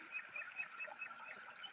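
Faint, repeated duck quacks sound at a steady rhythm over a hissy outdoor background, with no talking.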